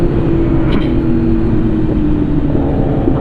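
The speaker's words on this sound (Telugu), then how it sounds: "క్రేజీ క్రేజీ ఫ్లేమ్స్ వస్తున్నాయి ఎగ్జాస్ట్ నుంచి R1" A loud, steady engine roar from a Yamaha R1 motorcycle exhaust, sustained and close, with a brief sharp crackle early on and no speech.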